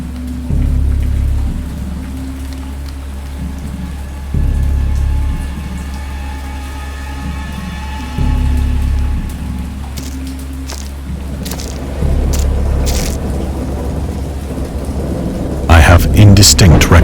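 Rain pours steadily in a thunderstorm in the game Dagon, with repeated deep rolls of thunder rumbling at regular intervals over the constant hiss, swelling louder toward the end.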